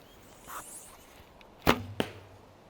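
A heavy 30-inch Musen fiberglass arrow, 500 spine, leaves the bow with a brief whoosh and then strikes the target with a sharp, loud thud a moment later, against quiet outdoor background.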